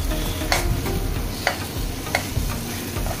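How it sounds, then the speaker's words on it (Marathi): Masala frying in a pan before crabs go in, a steady close sizzle broken by a few sharp scrapes of the spoon stirring through it. "हा चांगला मसाला आता फ्राय करून घ्यायचा आपल्याला"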